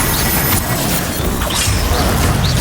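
An Incendio fire spell is cast in Hogwarts Legacy, giving a steady, loud roaring rush of flame and noise that fills the whole moment without a break.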